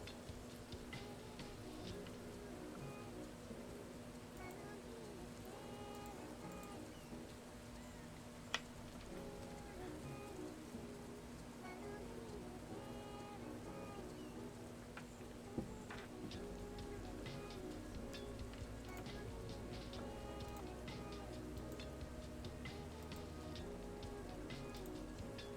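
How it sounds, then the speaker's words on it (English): Rain ambience track playing softly and steadily in the background, a constant wash of falling rain with a couple of brief clicks. "I also put some rainy mood on in the background because I'm hoping for some rain"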